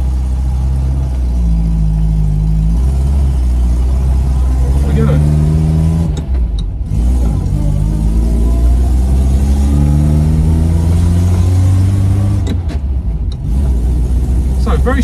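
The small engine of a 1955 Fiat 500C Topolino runs steadily nearby without misfiring, its pitch rising and falling with gentle revs, while a person talks over it throughout.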